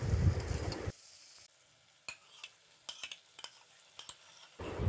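Ground cumin, coriander and red chilli powder fry briefly in a pan for ghugni, with a soft sizzle under a few light taps and scrapes of the stirring spoon, louder frying at the start and end.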